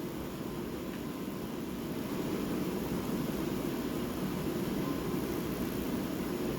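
A Dremel rotary tool runs continuously for a wood ring project, giving a steady, even high-speed whine with a faint rise partway through and no pauses or talking.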